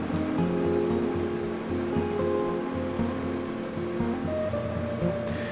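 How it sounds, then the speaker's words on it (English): Venus flytrap root ball dipped and swished in a container of water as the substrate falls away, a close continuous watery trickling and sloshing with faint splashes. "when you dip it in this water, all that substrate just kind of falls off"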